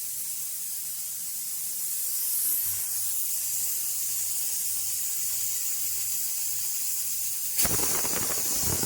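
Steady hiss of steam escaping a pressure cooker as vegetables cook, a broad continuous rushing noise throughout, with a sharper louder burst near the end.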